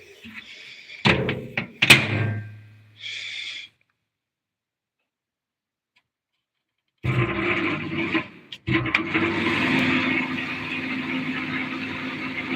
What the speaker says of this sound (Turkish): Çok kısa bir süre daha mikrodalgaya koyacağım.